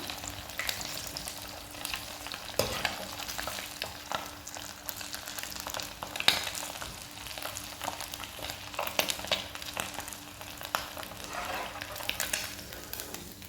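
Anchovies (nethili) crisp in hot oil in a pan, giving a steady, dense sizzle throughout with occasional louder pops and crackles, close by with no voices.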